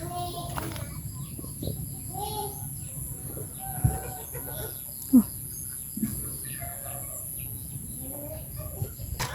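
Chickens cluck and a rooster calls now and then, scattered short clucks over a steady background hum, fairly close.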